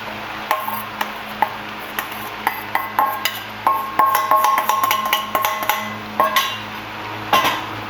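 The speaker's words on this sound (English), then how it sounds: "Now I'm going to add my corn." Corn goes into a pot of chilli con carne with repeated metallic clinks and scrapes of a spoon against the pot, an irregular clatter that grows busier midway.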